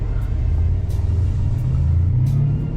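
A Mercedes C63S AMG idles while warming up on a cold Canadian winter day. Its engine gives a steady, close, deep rumble that holds even throughout, with no talking.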